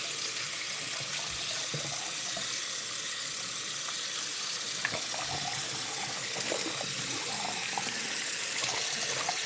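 Hot tap water runs steadily into a sink while a dirty rag is rinsed under it, a close, continuous splashing rush with no voices.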